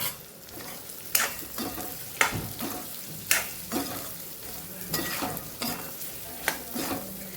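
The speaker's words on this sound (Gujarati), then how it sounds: "ધીમા ગેસ ઉપર આપણે સાતડીએ છીએ" Ridge gourd is sautéed in a pan over a low gas flame. A soft sizzle runs underneath, with repeated scraping strokes of a spoon across the pan roughly every second, close and alone.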